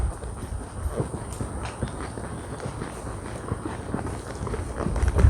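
A ridden horse walks along, its hooves striking in a steady, rhythmic clip-clop against a constant background hum, with no one speaking.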